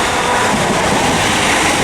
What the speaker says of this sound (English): That Pendolino that rushed through is also from London Euston to Birmingham New Street.